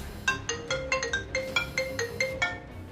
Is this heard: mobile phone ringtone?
yes